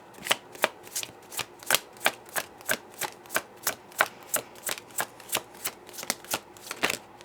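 Tarot cards are shuffled in a fast, even run of about twenty crisp riffling bursts, close and clear with no voice over them.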